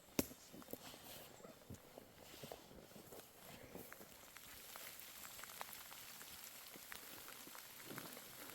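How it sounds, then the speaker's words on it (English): Rain falling steadily through the bush during a Sambar deer hunt, a soft continuous patter with scattered drops tapping on leaves and ground, moderately close and without speech. "Got a bit of rain coming through."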